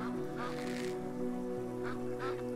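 Goose honking in the video game Night of the Dead: a few nasal honks arrive in separate bursts over a steady droning game background.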